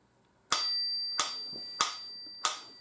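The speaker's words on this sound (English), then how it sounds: "I've set it so that it's going to ring that bell every 4 beats" Metronome bell rings four times at a steady, even pulse, each a bright sharp ding with a sustained ringing tone, close and clear against a quiet background.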